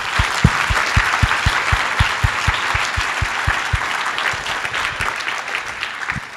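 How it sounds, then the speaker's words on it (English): A conference audience applauds the speakers at the close of a cryptography meeting, a sustained roomful of clapping with a few sharp, heavier claps standing out near the front, steady and moderately loud. "I want to have another round of applause for all the speakers for all the 3 days"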